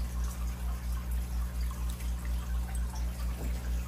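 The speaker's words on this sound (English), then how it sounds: "I'm just going to wash them off in water" Tissue culture plants rinsed under running water to wash off agar, a steady faint trickle and splash over a constant low hum, with no talking.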